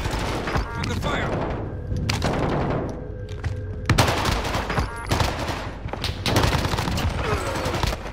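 Hostile gunfire in a competitive shooter match, rattling out in sustained automatic bursts with heavy thumps and booms, loud and near. Volleys pause briefly in the middle, then start up again even harder.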